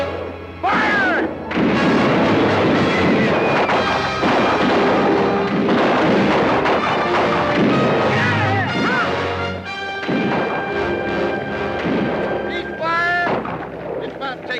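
Military gunfire and artillery fire during an ambush, loud and sustained with dense overlapping shots and booms continuing through the whole stretch, mixed with shouting voices.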